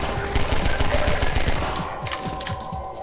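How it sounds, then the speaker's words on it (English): An MP7 submachine gun fires in the Half-Life 2 video game, a loud, rapid, continuous stream of close gunshots with a dense mechanical rattle that slightly thins near the end. "Now this is the MP7 SMG submachine gun."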